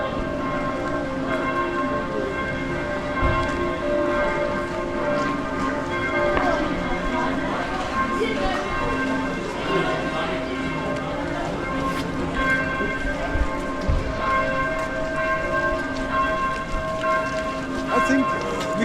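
Many church bells in Munich clang together in a dense, chaotic peal that continues steadily, with faint voices and crowd noise underneath.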